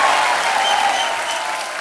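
A studio audience at a television comedy show gives steady, dense applause to welcome veteran dancer Helen, a loud continuous roar of many hands clapping close by, with no one speaking.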